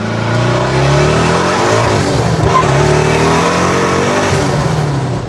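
Boosted Holden V8 engine with its exhaust valves open, a loud, deep, continuous roar and rasp that rises and falls slightly as the car drives, close and overwhelming.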